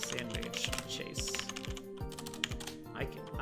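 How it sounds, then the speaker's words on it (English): Computer keyboard typing goes on in quick, uneven clicky bursts close to the microphone, with some talking and background music underneath. "I'm so bad at typing right now."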